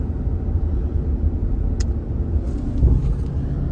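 Cabin rumble of a 2016 Jeep Grand Cherokee with a transmission shifting complaint, steady low road and engine drone while driving, with a slight surge as a gear change comes through.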